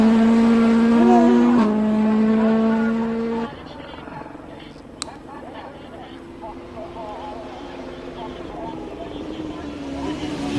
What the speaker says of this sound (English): Our commentary box was shaking under the launch, the sound of the launch control there.